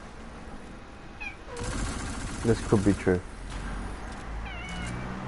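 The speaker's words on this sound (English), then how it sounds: "Little squeaky meow." A pet cat gives a few short, squeaky meows close by, rising in quick succession amid game sound effects and background noise, with a person talking over it.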